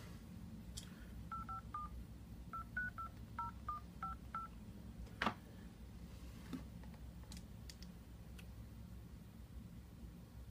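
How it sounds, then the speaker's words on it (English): Telephone keypad dialing tones beep in a quick run of about a dozen short DTMF presses over a steady line hiss, followed by a click and faint background noise on a call back into a teleconference. "Let me hang up and call back in."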